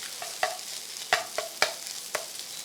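Corned beef being broken up and stirred in a frying pan, with a soft steady sizzle and several sharp scraping knocks of a utensil against the pan, close and alone without talk.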